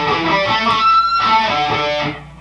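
Electric guitar plays the opening phrase of a solo, with a slow string bend and an artificial harmonic, sustained harmonic-rich notes ringing steadily for about two seconds, loud and close, alone without voices.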